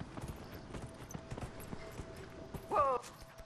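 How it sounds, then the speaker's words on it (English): A horse's hooves clip-clopping in a steady run through the Dragon Age: Inquisition video game, moderately loud and evenly paced, with a brief whinny-like snort near the end. "All right, horse, let's ride."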